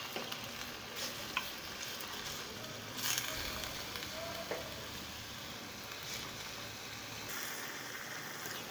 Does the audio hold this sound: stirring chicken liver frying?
yes